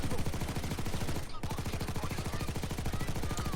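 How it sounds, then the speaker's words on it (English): Rapid, steady automatic fire from a game turret, a continuous machine-gun-like stream of even, closely spaced shots running loud and unbroken for several seconds, with one brief dip partway through. "Got a turret."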